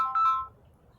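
A mobile phone rings for an incoming call: a short, clear electronic tone burst that quickly fades into near silence.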